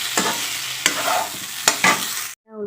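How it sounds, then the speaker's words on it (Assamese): Chopped kohlrabi and tomato fry in a pan with ginger garlic paste, sizzling steadily under a few sharp scraping stirs of a spatula, close up with no voices. "মই এতিয়া কবিখিনি দি দিলোঁ আৰু বিলাহী এটাও কাটি দিলোঁ সৰু সৰুকৈ। সেইখিনি অলপ দেৰি ভাজি লৈছোঁ।"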